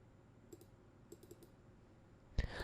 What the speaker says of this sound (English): Let me click on this.